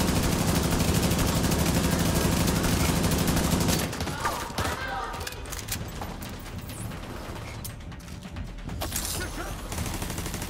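Heavy automatic turret fire from The Division 2 in The Summit tower, played on PS5. A dense, loud burst of shots lasts about four seconds, then gives way to quieter scattered mechanical clicks and shots.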